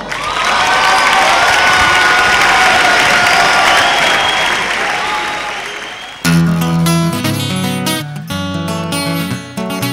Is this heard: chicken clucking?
no